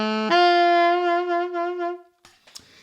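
An alto saxophone plays a short blues lick in D, a few sustained, bright notes in a clear phrase, followed by a couple of faint breathy key and mouth noises as it stops.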